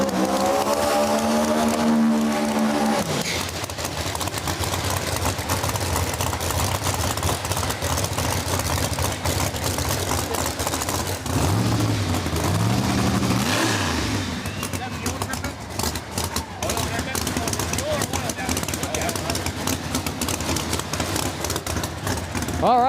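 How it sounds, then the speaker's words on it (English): A turbocharged Camaro No Prep Kings drag car at Beech Bend Raceway revs loudly in the right lane before its burnout, a continuous roaring engine with rising and falling revs. A commentator talks over it throughout. "Birdman here in the right lane going to do his burnout now."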